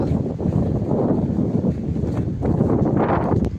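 Strong wind gusts across a fruit plant nursery, roaring and buffeting close against the microphone in steady rushing waves with rustling foliage.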